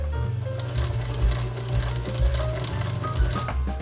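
A vintage Singer Featherweight 221 sewing machine stitches steadily, a loud close mechanical whirring hum with a rapid rhythmic needle clatter throughout, no voices.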